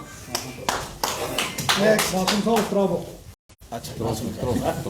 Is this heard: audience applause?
yes